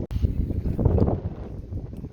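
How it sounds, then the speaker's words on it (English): Gusty coastal wind by a marina buffets the microphone in low, roaring bursts, rising and fading over a couple of seconds. "It is super windy out."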